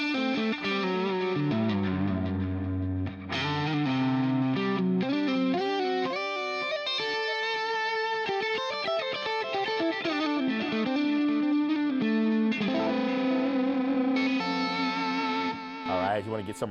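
Electric guitar played through HeadRush effects with a jazzy, broken-up modern R&B-flavored tone: overdriven chords and melodic runs with chorus and reverb, loud and continuous with a couple of brief gaps.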